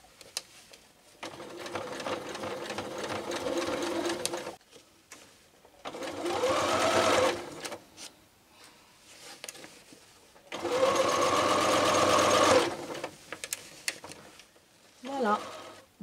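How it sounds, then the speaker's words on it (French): A sewing machine stitches a hem close to the edge around a thin-fabric trouser leg, running in three distinct bursts with short quiet pauses between, fairly loud and close. "Piquez le plus près du bord, tout autour de la jambe."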